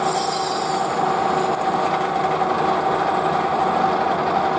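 A cutter machines out a BSA bush on a lathe, giving a steady, close, continuous metallic grinding hiss with a bright high rasp that holds level throughout, no voices.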